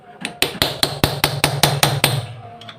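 Light hammer taps on a nut of a jammed sewing machine wheel, about nine sharp, evenly spaced metallic knocks close by, followed by a faint tap at the end.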